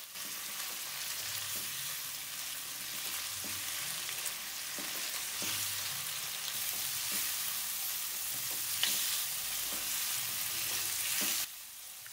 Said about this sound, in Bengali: চিকেনটা বেশ কিছু সময় ভেজে নেব। এই সময় ফ্লেমটাকে হাইতে রাখবো।